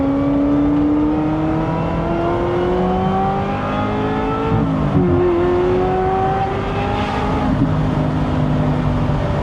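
Ferrari 355 V8 engine running while being driven gently after warming up, a smooth rising and falling whine with shifting pitch through the gears, close and continuous with no talking.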